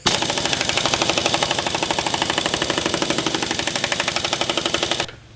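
Air impact tool driving a nut on a Jeep Cherokee XJ slider, a loud, close, rapid hammering rattle held steadily for about five seconds before cutting off abruptly.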